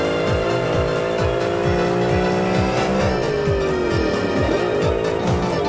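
A British-style sports car engine roars loud and close as the car brakes, corners and accelerates. The revs climb and shift in steps with gear changes, and tires squeal briefly.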